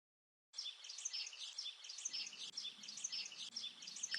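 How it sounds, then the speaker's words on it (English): A little bird chirps in a forest setting with a rapid, repeated high-pitched twittering that starts abruptly and continues steadily at low volume. "I hear a little chirp."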